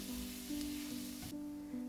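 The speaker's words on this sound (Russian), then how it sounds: "Добавьте еще немного сливочного масла в сковородку и обжарьте чеснок где-то 30 секунд." Steady sizzle of garlic frying in butter in a pan, a soft continuous crackle with a low hum in the background, no talking.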